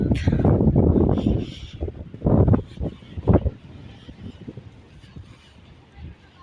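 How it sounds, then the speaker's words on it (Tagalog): Heavy wind by the sea at Pagudpud, Ilocos Norte buffets the microphone in loud rumbling gusts, easing off toward the end, with faint voices underneath. "Sobrang lakas ng hangin."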